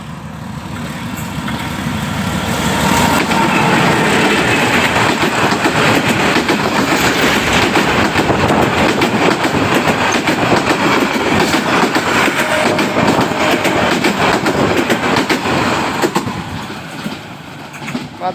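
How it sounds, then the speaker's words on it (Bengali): Bangladesh Railway's Duronto Express passes close by, a loud sustained roar of rumbling wheels and rattling wagons with clickety-clack, swelling in and fading away near the end, with no talk. "দুরন্ত এক্সপ্রেস চলে গেল"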